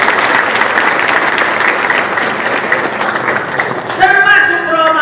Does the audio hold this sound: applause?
yes